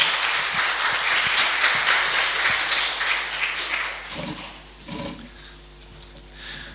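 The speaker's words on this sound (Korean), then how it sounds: "우리 인사하시고 들어갈 때 박수로 격려하시겠습니다." A church congregation at a Sunday worship service claps in encouragement, with dense, steady applause that fills the room for about four seconds and then thins into a few scattered claps.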